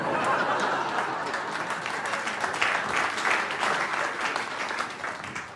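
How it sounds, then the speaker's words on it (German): An audience applauds during a German political cabaret performance, sustained dense clapping from a full hall with scattered chuckles and murmurs mixed in, loud and even throughout before tapering slightly at the end. "Applaus"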